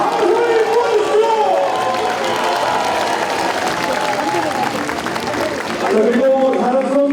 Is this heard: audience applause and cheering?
yes